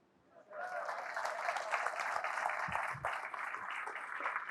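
Audience applause at a Berkeley Lab Research SLAM science-talk event: a dense, steady wash of many hands clapping that swells in quickly and holds at full strength for several seconds.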